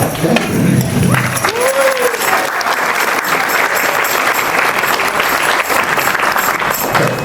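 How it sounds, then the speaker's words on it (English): An outdoor audience at a seafront town band concert claps, a dense, continuous round of applause at close range, with a voice speaking briefly near the start. "we'd like a lovely big round of applause for our soprano"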